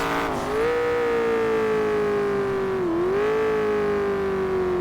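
A loud, steady engine drone from a C7 Corvette V8 in GTA V, with a harmonic pitch that dips and rises as it eases off and downshifts, with no talk.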